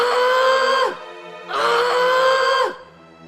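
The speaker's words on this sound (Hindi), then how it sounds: "और वो जोर जोर से चिल्लाने लगती है।" A woman screams loudly in a distressed domestic scene, two long wailing cries each about a second long separated by a short pause, close and strong with no other voices.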